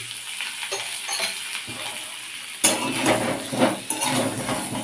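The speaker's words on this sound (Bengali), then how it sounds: "ভালো করে বেশ ভালো করে ভেজে নেবো আর এর সাথে একটু জোয়ান দিয়েছিলাম" Taro (arum) pieces frying in oil with carom seeds in a kadai, a steady close sizzle with scraping stir strokes that grows louder partway through as the pan is worked.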